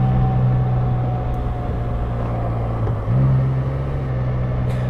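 Can-Am Spyder F3 three-wheeled motorcycle cruising on a sunny spring day, giving a steady, loud engine drone with wind rush throughout and a brief dip in tone about three seconds in.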